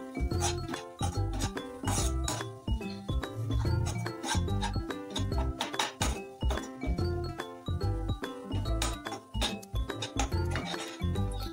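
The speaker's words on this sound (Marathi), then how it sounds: "मी क्रश केलेला काजू आणि बदाम घेतलाय, तो घालूया आणि 1-2 मिनिटं परतवून घेऊया" Crushed cashews and almonds are stirred in a pan as modak filling, giving a dense run of scraping, clinking and rattling strokes from the spoon and nuts. The sound is close and steady with no talking.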